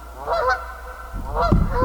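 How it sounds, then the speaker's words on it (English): Two Canada geese honk at an off-grid cabin, loud nasal calls in a short burst near the start and another cluster about a second later, fairly close with no talk. "I rarely get Canada geese out here at this time, so it's kind of funny to hear two of them like that."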